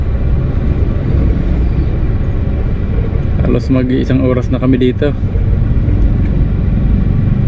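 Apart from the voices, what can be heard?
heavy road traffic entering Naga City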